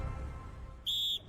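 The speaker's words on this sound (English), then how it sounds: "From the first whistle" A referee's whistle blows once to start a football match between Leeds and Stoke City, a single sharp, steady blast about a third of a second long, standing clearly above the low rumble of the stadium crowd.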